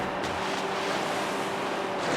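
Car splashing down into water after a big jump in Need For Speed Hot Pursuit 2, a steady broadband wash of water and rushing noise that fills the whole stretch without a break, fairly loud, with no voices over it.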